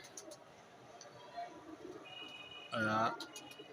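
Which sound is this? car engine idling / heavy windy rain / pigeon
pigeon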